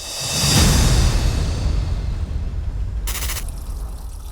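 Tap water pours steadily into sweetened tea at a street food stall, a continuous loud rushing splash with a brief brighter hiss near the end.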